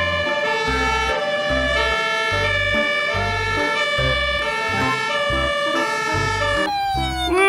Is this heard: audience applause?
no